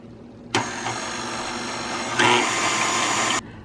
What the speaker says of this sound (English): You're gonna mix it at a pretty high speed until it forms stiff peaks